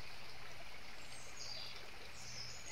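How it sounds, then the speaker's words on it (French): A river flows steadily in broadband wash, a soft continuous rush with faint bird calls appearing near the end, no voices. "Servez-vous de ce bruit de rivière, de ce son apaisant pour vous décontracter."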